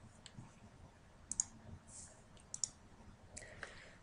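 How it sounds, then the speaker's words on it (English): Mouse clicks on a software Add button in a configuration program: a few sharp, close clicks spaced apart in a quiet room. "click the Add button."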